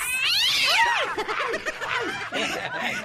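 A cat yowls as a radio sound effect with a shrill, wavering caterwaul, followed by a run of choppy, snickering yowls that sound close and fairly loud.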